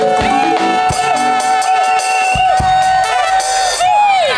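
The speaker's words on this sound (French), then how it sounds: "Offrande d'acclamation à Jésus." A large congregation at a Christian prayer conference raises loud acclamation to Jesus: sustained massed voices shouting and whooping together, ringing and continuous, with several rising cries near the end.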